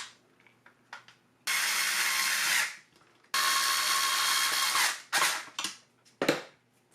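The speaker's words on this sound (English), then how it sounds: "Okay, now we can replace the screws that hold this white plate into place." A power driver runs screws into the white plate of a Dyson V10 cordless vacuum, in two long whirring bursts followed by a few short ones, loud and close.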